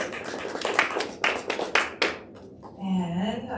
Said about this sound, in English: Let's give Eureka one more round of applause.